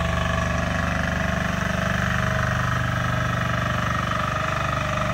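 Kirloskar Deluxe 8hp back rotary power tiller tilling a farm field, its engine running with a loud, steady, low rhythmic chug and a rough mechanical drone that continues unbroken throughout, with no voices.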